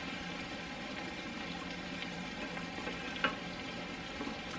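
Ground beef fries in a pan on a stovetop with a steady, close sizzle and crackle. One sharp tick or clink stands out near the middle, and no one speaks.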